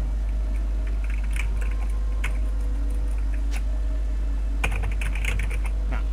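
Computer keyboard typing while an email is written during a League of Legends game, with scattered bursts of keystrokes over a steady low hum, clustering near the end.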